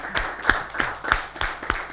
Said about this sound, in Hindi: इनके लिए भी ज़ोरदार तालियाँ